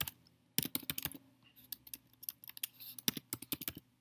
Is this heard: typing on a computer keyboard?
yes